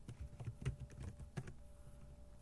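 Someone types on a computer keyboard at a desktop, a quiet irregular patter of soft key clicks over a faint background hum, with no talking.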